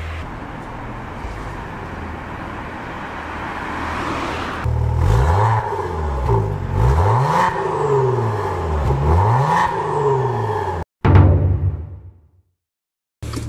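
A Maserati Quattroporte pulls away, its engine revving in rising and falling sweeps that sound like gear changes, loud and close, before cutting out abruptly near the end.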